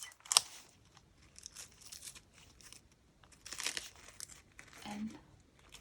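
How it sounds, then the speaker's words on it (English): Paper napkin plies being pulled apart with tape, giving close, quiet bursts of crinkling and light tearing in short separate bursts with pauses between. "If you're having trouble separating the napkins, just grab some tape."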